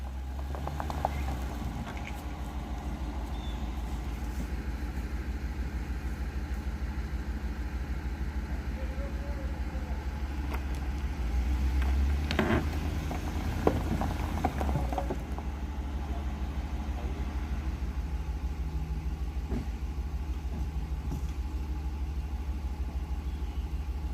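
A truck engine drones in a steady, low rumble as it slowly drags a small building, shed or cabin, holding a constant loud hum with a brief swell midway.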